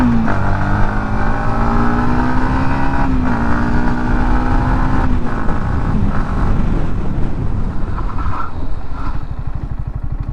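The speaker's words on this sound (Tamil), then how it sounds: "அண்ட் இப்போ நம்ம பிரேக் டெஸ்டிங் பார்ப்போம், ஃப்ரண்ட் ஏபிஎஸ் எப்படி ஒர்க் ஆகுது அப்படின்ட்டு." A Yamaha MT 15 BS6 motorcycle from 2020 runs steadily on a brake test ride, its engine note dropping as it slows, with wind rush throughout and no talking.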